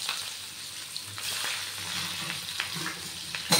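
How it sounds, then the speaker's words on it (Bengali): Onion sizzles and crackles in hot oil in a home kitchen, a steady close frying hiss with a few sharper pops and stirring scrapes. "তেল গরম পেঁয়াজটা দিয়ে দেবো।"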